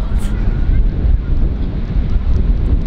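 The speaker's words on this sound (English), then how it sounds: "It's so windy as well." Strong wind blows across a cold beach and buffets the microphone with a constant, loud, low roar throughout, near and unbroken.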